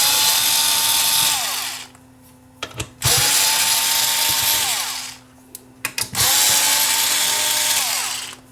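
A power drill removes screws from the front panel of a Pioneer X-CM30 CD unit. It whirs in three close, loud bursts, each winding down, with short clicks in the gaps between them.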